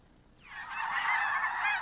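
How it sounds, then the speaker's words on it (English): A winter flock of snow geese on farmland flats honks as a dense, continuous chorus of overlapping calls that swells in quickly and stays loud, with no talking. "Tens of thousands of snow geese."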